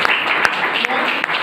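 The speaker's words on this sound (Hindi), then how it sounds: "एक बार जोरदार ताली होगी" Audience applause at a motivational talk, steady dense clapping with a few sharper claps standing out, heard close and continuous over the short stretch.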